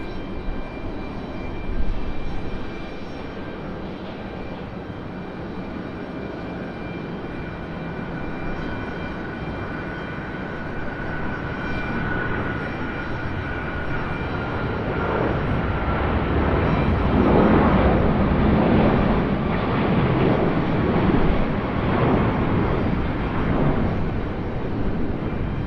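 A plane at Raleigh-Durham International Airport rumbles with a broad jet-engine roar that swells gradually louder toward the end, steady and continuous, with no talk.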